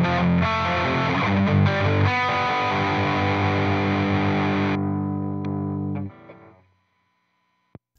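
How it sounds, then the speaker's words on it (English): An electric guitar played through a tube amp with a Fender Twin Reverb 2x12 cabinet impulse response rings out as a loud, distorted sustained chord for several seconds, then cuts off and decays, followed by a faint click. "Fender Twin Reverb 2x12."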